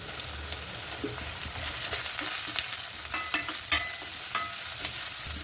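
Curry leaves crackle and sizzle in hot oil with onions in a pan for a cowpea kuzhambu, close and continuous, punctuated by quick spatula scrapes and stirring taps; no one speaks.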